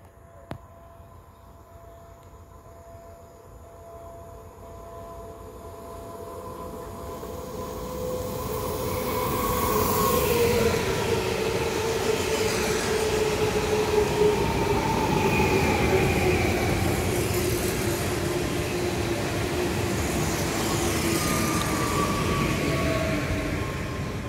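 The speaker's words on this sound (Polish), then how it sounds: "A więc teraz nadjeżdża jakiś pociąg, nie wiem dokładnie jaki," Two Koleje Mazowieckie Impuls 45WE electric multiple unit trains approach at Nowe Dębe and grow steadily louder, their rumble and rising hum filling the second half, with faint wheel squeal as they roll nearer.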